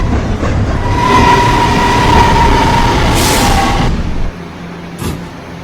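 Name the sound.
local train running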